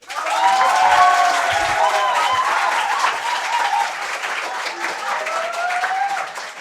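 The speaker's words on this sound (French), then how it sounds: "ça s'applaudit quand même" An audience claps for the Lycée Avédzi school team during a school competition match, a dense, sustained round of applause with scattered cheers and voices mixed in throughout.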